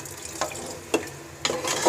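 Water is poured into a cooking pot of aloo mutter chicken, with short sloshing splashes and a faint sizzle, close and without talk.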